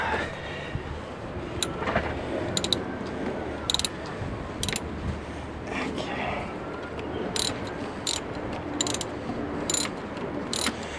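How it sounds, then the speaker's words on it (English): A ratchet wrench clicks on a 2010 Mini Cooper S diverter valve in the engine bay, sharp close bursts of ratcheting repeated through the clip over a low background rumble. "It's just a lot of ratcheting and ratcheting and ratcheting."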